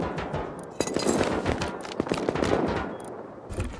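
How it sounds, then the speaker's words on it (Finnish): Rapid automatic gunfire in the survival video game Rust rattles out in loud, close bursts of overlapping shots, with brief gaps between volleys. "Sitä ammutaan."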